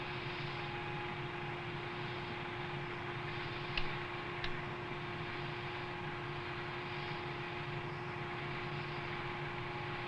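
An XV-15 tiltrotor aircraft climbs after takeoff, heard from inside as a steady, droning engine and rotor hum with a constant tone, interrupted by a couple of brief clicks, and no one talks.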